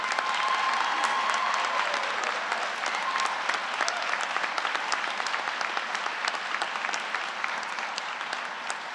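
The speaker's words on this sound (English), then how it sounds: "give them a round of applause" Audience applause for faculty and staff at a university winter graduate commencement ceremony, a large hall crowd clapping densely and evenly for several seconds, steady and full without talk.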